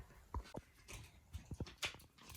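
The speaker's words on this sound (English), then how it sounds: "This is what I walk out to, these sweet little puppies." A litter of young puppies gives a handful of short, soft whimpers and yips, scattered irregularly across a couple of seconds at close range with no talking.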